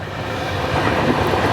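Garib Rath Express train rolling along the rails, a steady, continuous rumble and rail noise heard from inside a carriage, with no voices.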